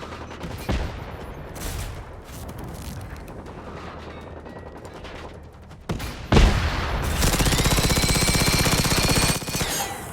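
Weapon fire in the video game Generation Zero: loud, close bursts of rapid automatic shots in dense volleys, with a heavier boom midway followed by a long sustained stretch of fast continuous gunfire.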